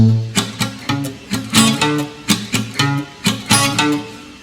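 Strummed guitar chords with muted strings in a steady reggae rhythm, each stroke short and choppy with a muted, percussive attack, played alone at close range.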